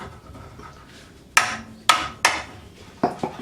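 A hammer strikes rusty suspension bolts on a car being restored, giving about six sharp, loud metallic blows in irregular pairs and singles, each ringing briefly over a low background hum.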